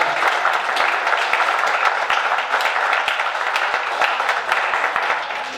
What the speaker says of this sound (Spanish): un aplauso porque